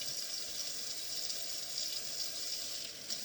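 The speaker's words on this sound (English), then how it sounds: "rinse this zucchini off." Steady broadband water rush from a kitchen tap as a zucchini is rinsed under the stream, continuous and fairly close with no talk.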